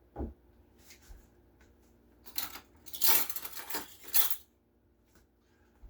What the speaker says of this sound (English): Now I'm gonna add a couple of spoonfuls of this fermented garlic here